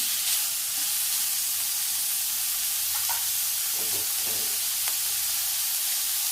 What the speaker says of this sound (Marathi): जास्त लाल नाही करायचं आहे असा हलकासा भाजून घ्यायचा कांदा